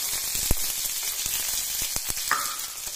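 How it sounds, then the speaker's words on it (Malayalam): Mustard seeds and dried chillies splutter in hot oil for a lentil curry, a steady close sizzle punctuated by sharp scattered pops and crackles. "അതിലേക്ക് നമുക്ക് കുറച്ച് 1/2 ടീസ്പൂൺ കടുക് ഇട്ട് കൊടുക്കാം. അതിനി പൊട്ടട്ടെ."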